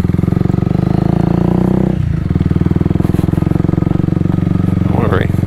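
Close, loud motorcycle engine on a mountain road, pulsing steadily then dropping briefly before revving again, with a voice talking over it.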